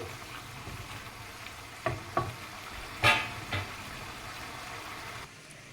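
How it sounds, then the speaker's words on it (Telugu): Chicken pieces for a dry curry-leaf chicken sizzle softly in a pan, with a few sharp spoon-stirring clinks against the pan over the steady frying hiss. "మన చికెన్ ఇలా కుక్ అవుతుంది, ఇంకా డ్రై అవ్వాలి."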